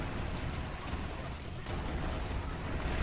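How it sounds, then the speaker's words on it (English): Explosions in the video game Borderlands 3, a dense continuous barrage of booming blasts and rumbling detonations with no clear gaps, loud and chaotic as enemy groups are cleared rapidly, no talk over it. "the explosions are nuts"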